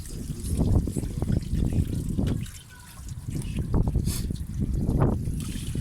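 Water gushes and trickles steadily as dirty water is flushed out of a home heating radiator during cleaning, dipping briefly before flowing strongly again.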